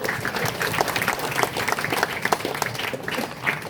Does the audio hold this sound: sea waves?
no